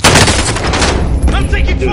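Loud, rapid gunfire in a multiplayer shooter video game, a dense burst of close shots in the first second followed by scattered further cracks and echoes.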